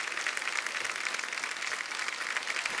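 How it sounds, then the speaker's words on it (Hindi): A studio audience on a TV comedy talk show bursts into dense, sustained applause, loud and even throughout with no speech over it. "चलो एक बार जोरदार तालियां"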